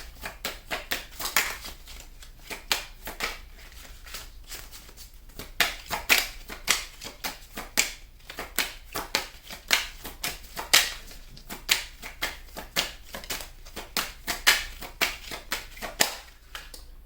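Tarot cards being shuffled and drawn, a dense run of quick papery riffles and flicks repeating in short bursts, close and fairly quiet with no voices.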